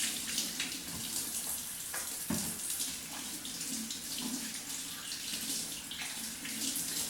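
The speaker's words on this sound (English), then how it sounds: "let me wash my hands off real quick here" Kitchen faucet running while hands are washed under it, a steady close splashing stream with small bursts as hands move through the water, no voices.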